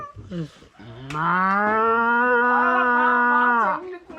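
A cow gives one long, loud moo, close by, preceded by a couple of short lower grunts.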